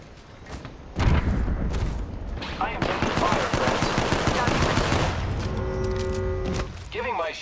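Dense automatic gunfire during an Apex Legends match, loud sustained bursts and volleys filling most of the stretch with booming impacts, mixed with game effects and brief voice callouts.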